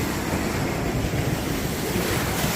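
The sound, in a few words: ocean waves at Malibu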